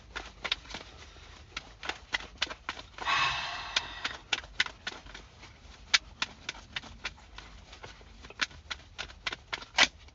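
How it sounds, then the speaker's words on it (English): Tarot cards are shuffled over and over, giving a steady run of crisp flicking snaps with a short riffling rush in the middle. The sound is fairly close and has no talking over it. "Just stop the shuffling."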